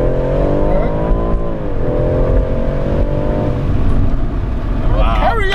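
A BMW M140i Shadow Edition kicks down and accelerates hard from inside the cabin, its engine droning and rising in pitch with a gear change midway, while people talk over it.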